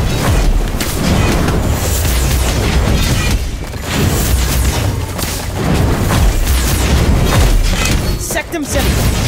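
The Incendio fire spell in the mobile game Harry Potter: Magic Awakened sets off a dense, loud run of booming blasts and crashes layered with game music and effects, with no clear gaps.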